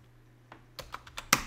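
An IP address typed on a computer keyboard: after a quiet start, a short run of crisp individual keystrokes, about seven clicks in an uneven rhythm, close and isolated without voices.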